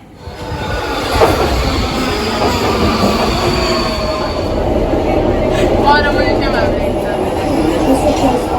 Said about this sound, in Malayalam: ഇവിടുത്തെ ഒരു അണ്ടർഗ്രൗണ്ട് മെട്രോ സ്റ്റേഷനിലേക്കുള്ള വഴിയാണ്